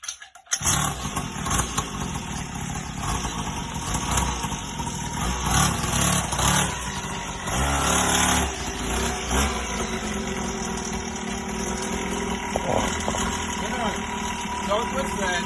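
A dirt bike engine starts and settles into a steady idle close by, running continuously beneath people talking outdoors.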